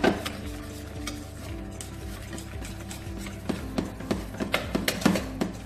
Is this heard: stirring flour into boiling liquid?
yes